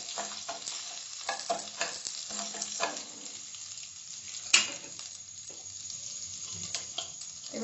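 Green chillies frying in a pan for Karnataka-style curd rice are stirred with a utensil, which makes soft scraping strokes over a constant gentle sizzle and one sharp clink midway, close and quiet.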